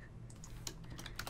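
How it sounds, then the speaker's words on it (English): Quick keystrokes clatter on a computer keyboard during a Minecraft session, a handful of soft, close clicks in an irregular burst over a low background hum. "I'm typing to him now."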